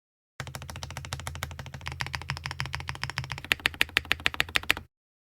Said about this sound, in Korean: 저는 그냥 이대로 한번 타이핑해 보러 가겠습니다.